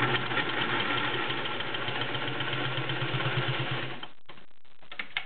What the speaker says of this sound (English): fit it under the foot of a Slant-O-Matic and it will sew it